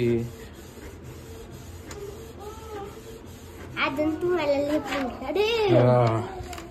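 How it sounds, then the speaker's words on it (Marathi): A new home printer feeding and printing a page, soft whirring and rubbing mechanism sounds under children's and adult voices talking, with the chatter growing louder toward the end. "आता तशी काहीशी अशा पद्धतीनं प्रिंट आपली निघलेली आहे"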